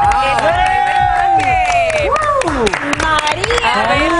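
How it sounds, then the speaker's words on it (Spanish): Studio audience on a Spanish-language television makeover show breaks into applause and cheering as a viewer's new look is revealed, a dense crowd roar with clapping and whoops mixed under an excited host's voice. "vamos a darle un fuerte aplauso"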